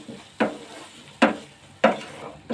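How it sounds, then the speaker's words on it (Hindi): A spoon stirs masala with turmeric and salt in a pan while cooking handi paneer. Four evenly spaced scraping strokes sound up close over a soft background sizzle. "इस तरह से चलाते रहेंगे।"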